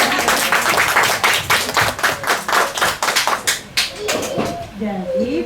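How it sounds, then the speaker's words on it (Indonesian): A small group claps during an indoor book discussion, with sharp, fairly rhythmic hand claps that thin out and fade, followed by a voice starting to speak. "Tepuk tangan."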